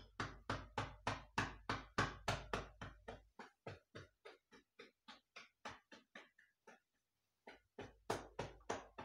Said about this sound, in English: Now let's knock on the back of the knees.